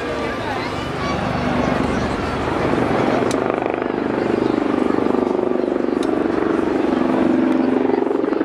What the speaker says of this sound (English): the brand new helicopter, the Wildcat, as it makes its way along the crowd.